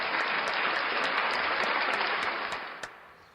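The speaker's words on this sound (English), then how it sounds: "Show him how you clap." A young boy claps his hands, with broad noisy clapping running steadily for about two and a half seconds before tapering off, ending with one sharper single clap near the end, close and fairly loud with no talk.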